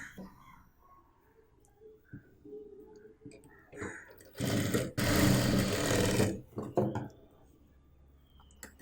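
Sewing machine stitching along the edge of waste cloth pieces for a mobile pouch, a loud dense whirring run of about two seconds in the middle, with quieter handling clicks before and after.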